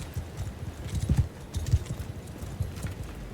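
Horse hooves clip-clop in Mount & Blade II: Bannerlord as a rider moves along, with steady, fairly close low thuds in an uneven walking rhythm and no talk.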